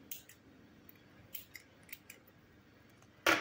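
Scissors snip through acrylic crochet yarn on an amigurumi turtle: several soft, light snips close by, ending in one sharp, louder clip, with no voice.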